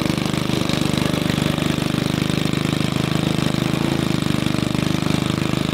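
A vehicle engine drones steadily and loudly at a constant pitch, pulling a Jeep stuck deep in farm mud, with no clear rise or fall in revs throughout.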